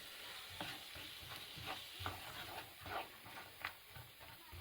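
Food sizzles steadily in a hot pan, a soft hiss throughout, punctuated by a few light scraping stirs.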